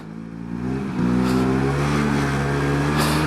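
The engine of a 1979 Vespa P200E scooter hums steadily while riding, rising in pitch with each shift. A near, continuous drone with a small dip and step around one second and wind noise over it, no talking.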